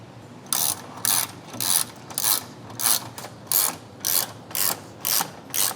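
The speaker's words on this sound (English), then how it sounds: "tighten them down with a 3mm Allen key" Repeated ratcheting clicks from an Allen-key ratchet tightening 3mm bolts on an MST cold air intake in a 2021 Toyota Supra engine bay, about ten short even bursts close by, with no talking.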